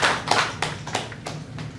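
Sparse clapping from a small audience at an academic conference, a handful of distinct claps spaced irregularly over under two seconds, close and fairly loud.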